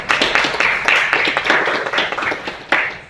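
A small group claps at a press briefing, a few distinct, fairly close claps in a loose rhythm lasting a few seconds.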